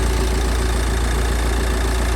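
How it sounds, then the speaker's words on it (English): A 2018 Nissan X-Trail TS AWD wagon with a turbo diesel engine idles steadily at close range, a dense low rumble with a faint knocking texture and no other sounds. "got that nice diesel sound as well too"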